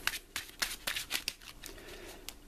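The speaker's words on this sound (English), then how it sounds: "shuffle the villain deck" Cards from the villain deck of the Marvel Champions board game, Rise of Red Skull scenario, are shuffled by hand in a quick run of crisp riffling bursts and snaps, close by, with no talking.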